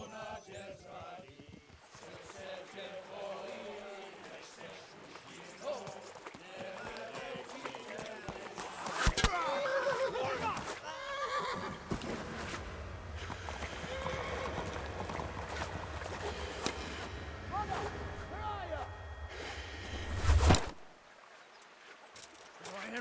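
Horse hooves clip-clop and gallop in the medieval open-world game Kingdom Come Deliverance, mixed with game dialogue and ambient sound, with a sharp burst near the end.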